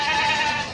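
A goat at a sheep and goat livestock market in Mashtaga gives one short, nasal bleat, close and fairly loud.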